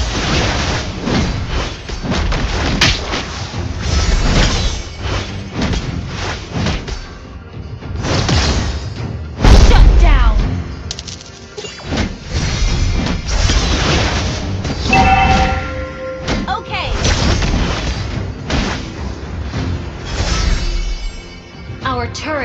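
A turret is destroyed in Mobile Legends: Bang Bang amid dense, loud game audio, with a heavy booming crash standing out over constant music, whooshing skill effects and announcer voices.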